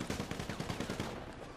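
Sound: sniper gunshot in video game GTA V Online

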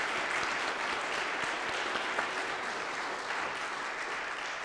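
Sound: applause

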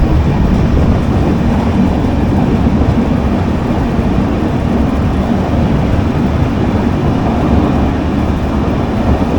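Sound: train running through a long tunnel

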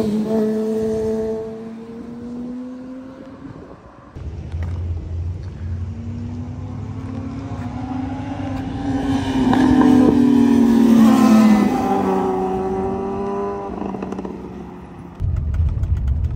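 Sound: truck pulling out of a parking area

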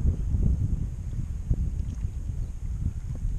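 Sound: wind picking up over the water

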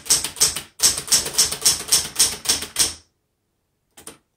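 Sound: typing on a 1970s Smith Corona Galaxie Twelve typewriter

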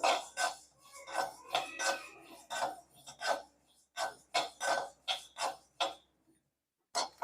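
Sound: mustard seeds popping while being roasted

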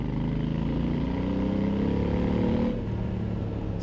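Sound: Honda Africa Twin 2022 motorcycle engine

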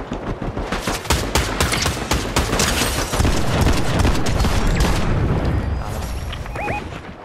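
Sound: purple shotgun shots in the video game Fortnite

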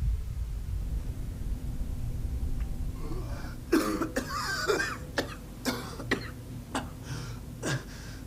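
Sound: video game character gasping and coughing

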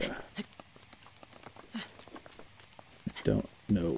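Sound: rain in a video game

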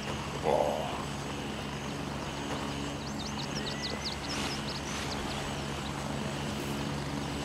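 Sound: enemy helicopter in video game Gray Zone Warfare

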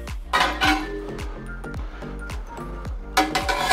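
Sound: lid placed on a cooking pot

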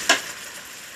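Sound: stirring chicken tinola in a pot

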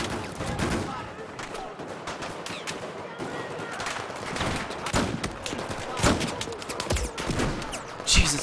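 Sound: gunfire in Battlefield 4 video game

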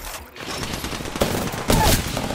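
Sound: gunfire from a video game

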